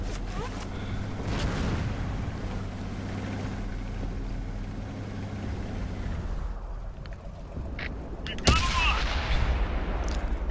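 Howitzer artillery fire in the World of Tanks video game: a sustained rumbling, explosive bed of low booms across the clip, with a sharp, loud blast near the end followed by ringing debris.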